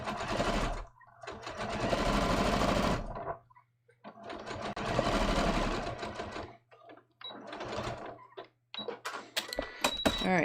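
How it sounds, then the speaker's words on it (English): Sewing machine stitching a denim jean front pocket bag, running in two long steady bursts of several seconds each, then short start-stop stitches with small clicks near the end. "So I'm going to pull it away a little bit as I stitch."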